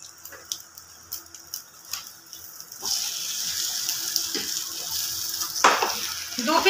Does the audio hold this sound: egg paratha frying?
yes